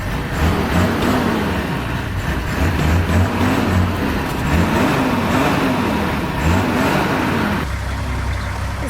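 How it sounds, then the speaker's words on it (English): A safari vehicle's engine in Kafue National Park revs in repeated rising and falling surges over a steady rumble, close and continuous, meant to chase lions away from a camp kitchen. "Boyd starts revving the engine to try to scare the lions away from the kitchen area"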